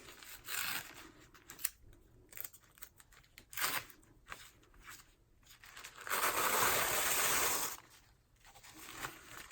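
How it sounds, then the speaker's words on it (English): Tape backing peeled off by hand at close range while crafting a small handmade journal, heard as a run of short crinkly rips and scratches and then one longer, louder tearing peel. "Let me get a piece of tape and take the backing off."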